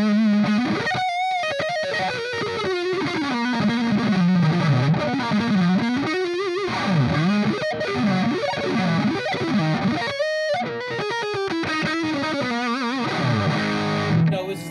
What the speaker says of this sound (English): The lead gain is kind of cool because it goes up to 22, which is definitely more gain than you'll ever need for any kind of shredding you can imagine